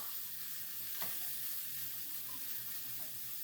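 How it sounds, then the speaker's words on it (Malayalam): Onions frying in oil in a pan for an anchovy fish curry, a steady soft sizzle with a faint click of stirring, continuous and close with no talk. "അത് നന്നായിട്ടൊന്ന് എണ്ണയിൽ മൂപ്പിച്ചെടുക്കാം"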